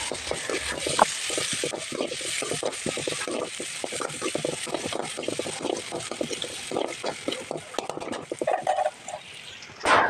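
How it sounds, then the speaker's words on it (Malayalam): Strong wind buffeting an outdoor kitchen in a village, a continuous gusty rush with scattered knocks and rustles throughout, fairly loud. "ഞാൻ ഈ സംസാരിക്കുന്ന സമയത്ത് ബാക്ക്ഗ്രൗണ്ടിൽ കുറേ സൗണ്ടുകൾ കേൾക്കുന്നത് ഒന്ന് കാറ്റ് ഭയങ്കര കാറ്റാന്ന് മനസ്സിലായി കാണുമല്ലോ"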